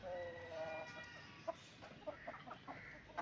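Hens clucking and squawking during a fight with aseel hens, with short sharp calls and scattered flutters over steady background noise in a chicken colony.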